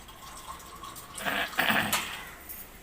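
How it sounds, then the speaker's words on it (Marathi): Water poured into strained homemade sherbet that already has sugar in it, a short splashing pour of about a second against a quiet background. "त्याच्यामध्ये पाणी टाकायचं"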